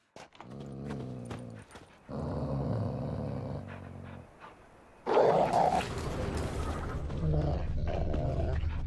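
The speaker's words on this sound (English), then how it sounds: "Just beware of the dogs." Dogs in The Witcher 3 growling and snarling, low rough rumbles in several bursts that grow louder and harsher toward the end, with no talk.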